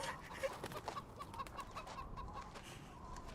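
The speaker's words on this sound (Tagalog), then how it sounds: "gusto niyo bang bumili ng manok?" Chickens cluck in a Filipino period film scene, a series of soft repeated clucks over a steady background noise bed, fairly faint and without talk.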